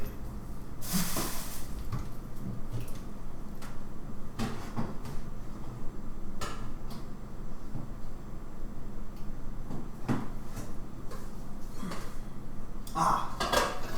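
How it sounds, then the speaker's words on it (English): A knife cuts food directly on a metal pot in place of a cutting board, giving a run of scattered clanks, scrapes and taps of varying loudness with quiet stretches between them. "I found something worthy of being cut on. This pot."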